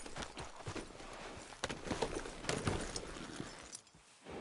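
Horse hooves clip-clop at a walking pace in Red Dead Redemption 2, a steady rhythm of close, moderately loud footfalls with faint tack jingling, fading slightly near the end.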